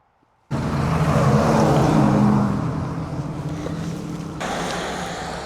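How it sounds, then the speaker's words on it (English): A car towing a cart on a road leading up to a landfill on Vancouver Island passes close by, a sudden loud broadband engine and tyre rush that starts abruptly and lingers as it fades, with wind in the background and no talking. "So that was a car carrying a cart because this road goes up to the Heartland landfill"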